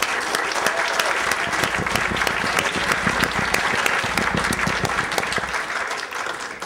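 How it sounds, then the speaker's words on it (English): A luncheon audience gives a warm round of applause, many hands clapping in a thick, steady roar that stays strong for several seconds and tapers off near the end, with slight crowd murmur beneath. "let's give them a round of applause"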